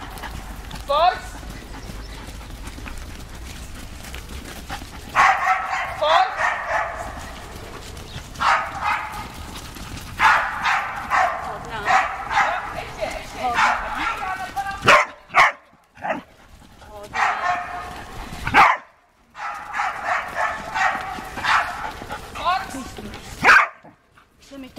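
A sheepdog barks in short repeated bursts during sheep herding training, loud and close, mixed with hoof-like thuds and rustling while a person talks and calls commands between the barks.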